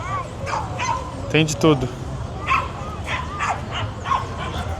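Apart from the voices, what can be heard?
dogs barking at a dog fair in Lima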